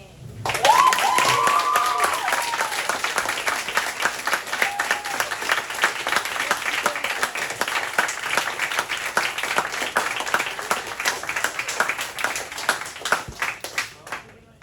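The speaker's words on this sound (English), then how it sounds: "So, give a round of applause for Alice Gang." Steady crowd applause with dense clapping throughout, sustained at a fairly loud level, with a brief voice or whistle near the start before fading at the end.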